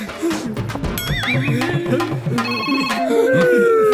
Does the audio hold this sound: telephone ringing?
yes